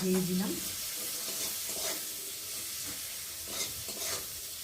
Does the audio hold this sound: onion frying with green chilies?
yes